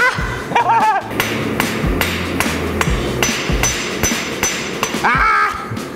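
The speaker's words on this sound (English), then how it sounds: "I just hit the anvil 5 times." Hammer striking an anvil in a smithing contest, a series of sharp ringing metallic clangs at uneven intervals, close and loud, with brief laughter and voices between strikes.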